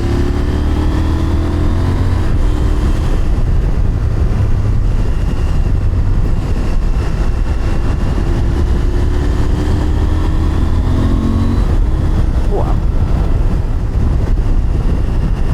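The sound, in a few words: motorcycle engine accelerating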